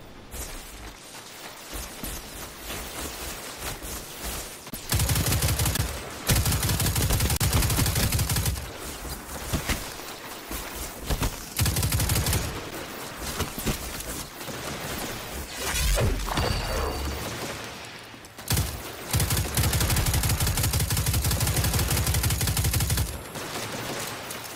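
Heavy gunfire in the Destiny 2 video game during a public event, with loud sustained bursts of shooting and crashing impacts coming in waves, broken by short quieter gaps.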